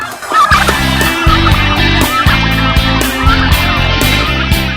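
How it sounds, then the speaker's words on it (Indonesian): Turkeys gobble loudly and repeatedly nearby, overlapping rattling calls from a flock of various ages, some clucking mixed in, with no talking. "Jenis lainnya juga bisa terbang, bergerak gesit, serta bersuara nyaring."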